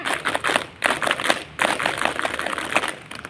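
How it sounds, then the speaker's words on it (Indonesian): Scout clap by participants at an Indonesian scout anniversary ceremony, with bursts of many hands clapping together in rhythmic groups, loud and close, with brief pauses between rounds. "Sekali lagi, tepuk pramuka."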